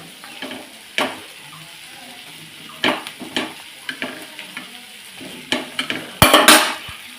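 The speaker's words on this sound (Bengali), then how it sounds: "বাবার জন্য রুটিটাকে ভাজছি" Roti flatbread frying in a hot pan, with intermittent sharp scraping and tapping from a spatula over a low sizzle, plus a burst of clattering near the end; no one speaks.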